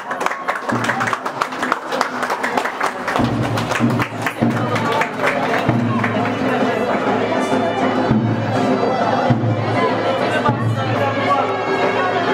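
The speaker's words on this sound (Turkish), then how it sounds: "Alkışlarla uğurlayalım mı?" Clapping and crowd chatter at a bride send-off during a village wedding in Çıralı, with steady applause under a busy hubbub of voices and talking that carries on throughout.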